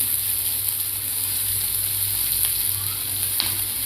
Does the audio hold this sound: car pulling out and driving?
no